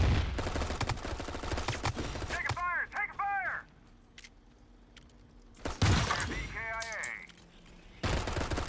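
Gunfire crackles in the online shooter game CROWZ in several sharp bursts separated by short gaps, loud and close, with someone talking between the volleys.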